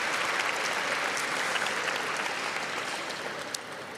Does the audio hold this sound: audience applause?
yes